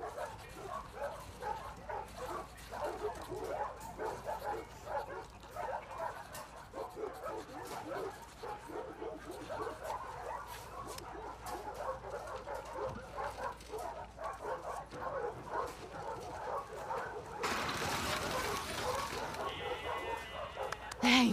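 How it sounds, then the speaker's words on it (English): A dog in The Last of Us Part II barks, yips and whimpers in repeated bursts, fairly close, with people talking around it and a brief louder burst of sound near the end. "Hey, you crazy dog."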